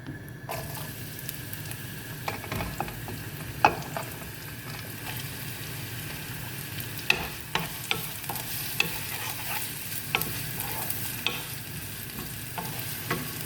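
Onions frying in oil in a pan for a mustard katla fish dish, a steady, even sizzle throughout with occasional light clicks and scrapes of a utensil.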